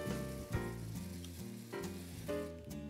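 Onion sweating in butter in a pan for meatball mixture, with cream and breadcrumbs added, gives a steady close sizzle with occasional stirring bumps, no voices.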